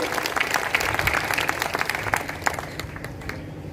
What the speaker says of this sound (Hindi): एक बार तालियां बजाकर मुझे आदेशित करिए